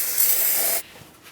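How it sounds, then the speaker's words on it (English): Parts cleaner sprayed from an aerosol can onto an engine area: one close, loud hissing burst lasting just under a second, then stopping, leaving faint quiet. "I'm going to use some parts cleaner and a rag"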